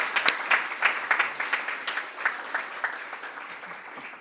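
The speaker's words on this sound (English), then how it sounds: "I'd love to give them a round of applause so that way the internet can know how much we thank them" An audience at the NYC School of Data 2018 conference applauds the event sponsors with rhythmic, pulsing claps that stay fairly loud before gradually fading over about four seconds.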